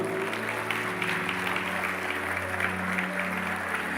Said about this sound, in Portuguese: Mais uma vez, aplaude esse Deus maravilhoso.